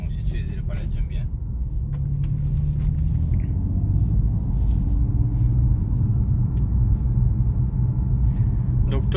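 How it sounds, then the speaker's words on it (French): A BMW M4 Competition F83 engine while driving, a low steady rumble inside the cabin that swells slightly as the car moves, with people talking over it. "On écoute le bruit du moteur."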